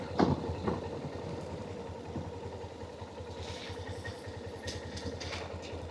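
A motorcycle engine idles at a bike and scooter parking area of an eco-tourism park in Darjeeling. It gives a low, steady, fairly faint putter throughout, with some light clatter and distant activity around it.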